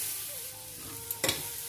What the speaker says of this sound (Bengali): এবার লো ফ্লেমে ডালের সাথে অন্যান্য উপকরণগুলোকে খুব ভালো করে সাঁতলে নিতে হবে।